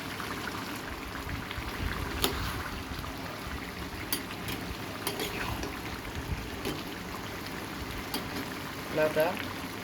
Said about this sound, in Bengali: লাউটা সুন্দরভাবে সিদ্ধ হয়ে যাচ্ছে।